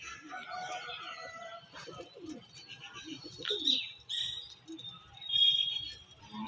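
Pigeons kept at home for twenty years coo and chirp softly at moderate distance, short scattered calls and a few wing flutters over quiet background noise.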